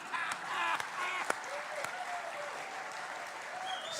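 Steady audience applause at a church gathering, a dense even wash of many hands clapping with a few sharper individual claps near the start, holding at moderate volume throughout without voices.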